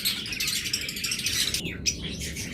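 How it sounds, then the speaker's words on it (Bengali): A caged breeding pair of birds kept for sale gives quick, bright chirps and tweets close by, repeating in short bursts without any talking. "এগুলো টপ মার্কিংয়ের টপ কোয়ালিটির পাখি"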